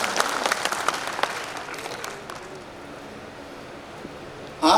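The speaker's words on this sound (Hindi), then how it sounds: "एक बार जोरदार ताली इन लोगों के लिए आप सब बजा दें।" A crowd at a commemoration of a queen's martyrdom day claps loudly and densely at first, the applause thinning and fading to a soft wash before a sudden burst of noise at the very end.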